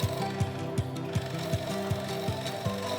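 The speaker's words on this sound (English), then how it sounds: "Bore your first hole." A drill press bores a hole through clamped plywood and a backer board, with a steady motor drone and a regular rhythmic thumping pulse, close and fairly quiet.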